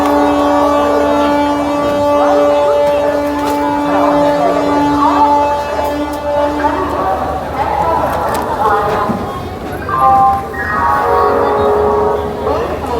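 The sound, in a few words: Kriya Yoga Express train departing Howrah station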